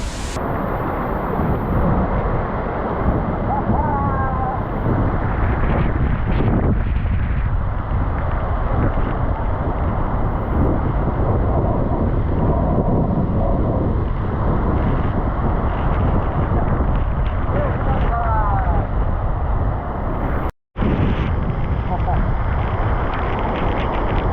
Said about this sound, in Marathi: जवळपास 300 फुटांवरून थेट खाली जमिनीवर कोसळणारा हा धबधबा